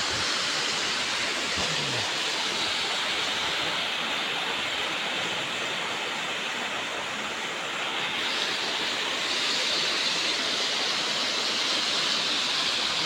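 A constant roar of falling water, broad and steady throughout, with no voices or other distinct sounds above it.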